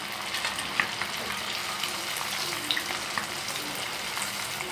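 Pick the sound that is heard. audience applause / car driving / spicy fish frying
spicy fish frying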